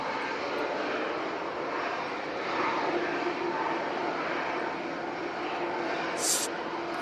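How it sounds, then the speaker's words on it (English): An ERJ regional jet rolls out after landing, a broad steady engine roar at a distance with a slight swell midway, no voices. "Very nice landing there from the ERJ."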